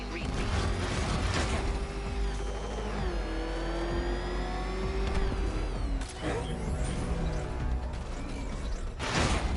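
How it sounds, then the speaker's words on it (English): Batmobile from a Batman video game revving and driving, a loud continuous engine roar with rising and falling pitch sweeps and mechanical clatter throughout. "There's more to this test than just going vroom, vroom really fast."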